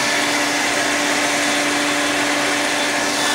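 A vacuum cleaner runs on a couch pillow with a loud, steady, high-pitched whine and rushing airflow, held continuously and close with no talk.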